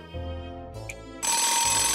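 A telephone rings in the video game Nights of Azure, electronic ringing tones that grow into a louder, brighter ring partway through, with a musical hum underneath.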